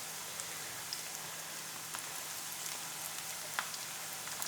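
Onion pakoras frying in hot oil, a soft, steady crackling sizzle with scattered small pops, faint and heard alone.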